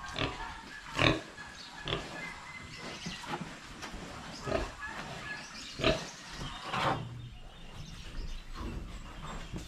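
Tethered farm pigs grunt repeatedly in a pen, a series of soft, irregular snorts and oinks spread over several seconds, fairly faint and close, with low background noise and no talk.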